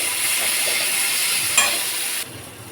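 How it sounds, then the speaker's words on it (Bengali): Onions and chillies sizzle briskly in a pan, a loud steady hiss of frying with a brief stirring scrape before the sizzle drops off near the end. "পেঁয়াজগুলো একটু নরম নরম ভাজা হবে।"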